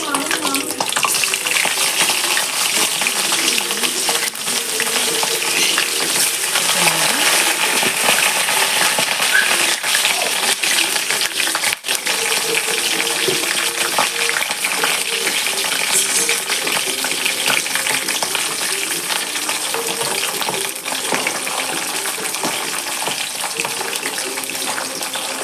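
Garlic and fenugreek seeds fry in hot oil for a date pickle, giving a steady, dense sizzle and crackle that holds loud and unbroken from start to finish, with faint stirring clinks and no talk.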